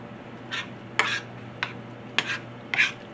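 Chili beans frying in a pan while being stirred, giving five brief scraping, clinking strokes spaced about half a second apart over a low steady sizzle, close and fairly quiet, with no talking.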